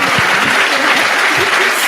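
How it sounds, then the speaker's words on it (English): An audience at a conference panel on witness, advocacy and healing gives a round of applause, a steady loud wash of clapping across the whole moment, with a voice faintly audible underneath. "let's just give our panel a quick round of applause."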